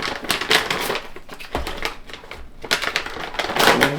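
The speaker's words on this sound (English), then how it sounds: "So I'm just going to rip this open." Close, loud crinkling and tearing of a foil food pouch being ripped open in a kitchen, a crisp burst of rustling bursts spread across the moment.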